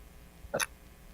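A single short burp, quick and fairly quiet, against a faint steady background hiss.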